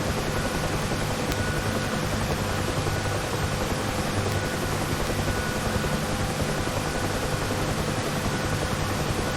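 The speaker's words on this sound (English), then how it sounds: "I will now bring the helicopter to a low altitude hover as demonstrated in the pickup lesson." Helicopter hovering at low altitude in a flight simulator game, a steady dense rotor and turbine roar with a constant low throb and broadband hiss, loud and unbroken throughout.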